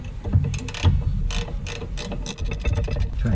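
A ratchet tightens a rear brake bolt on a 2010 Toyota Camry, with quick, close metallic clicking in short irregular bursts.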